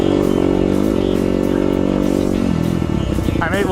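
A dirt bike engine drones loudly and steadily while the bike is ridden in open Idaho terrain, with its pitch shifting as the rider varies the throttle. The engine is close and dominant, and talk may be faintly mixed in.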